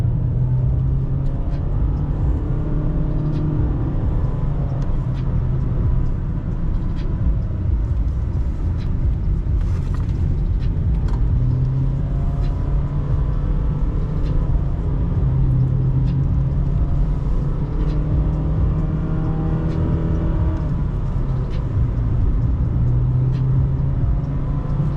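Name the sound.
Honda Fit driving on mountain backroads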